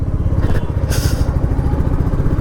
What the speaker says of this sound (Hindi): बस ये मोटरसाइकिल है, बस ऐसे झटकों पे हालत ख़राब कर देती है